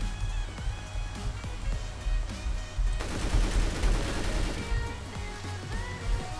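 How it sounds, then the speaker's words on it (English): Gunfire in a Roblox Mad City PvP fight rattles out in rapid shots and bursts, turning into a dense, continuous volley partway through. The shots are loud and close, with no talking. "I'm going to start shooting only after he starts shooting."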